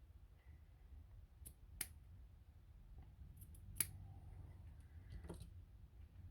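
Scissors snip miniature craft material in a few sharp, close cuts, with a soft low room rumble underneath and no talking.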